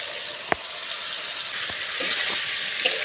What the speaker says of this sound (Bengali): এইভাবে নেড়ে চেড়ে আমি ভালো করে কষাতে থাকবো